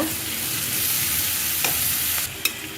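Green chillies being stirred into onions frying in a pan for a Kerala-style tomato roast give a steady, close sizzle with a few sharp scrapes of the spoon near the end.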